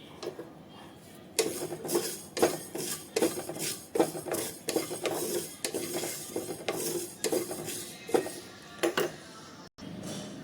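Repeated scraping and stirring knocks of a utensil against a pan, irregular but steady, with a light rattle of mustard seeds dry-roasting.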